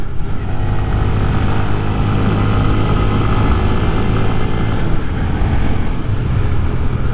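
Small 2023 Honda Grom motorcycle held at full throttle, a steady loud engine drone with heavy wind rush over the microphone, continuous and close, no talking.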